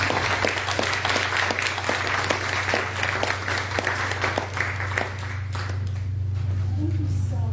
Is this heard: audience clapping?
yes